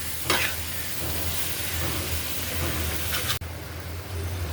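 Bhorta greens and small local fish stirring and frying in a pan, a steady close sizzle throughout with brief scraping stirs, one near the start and another just before a short break.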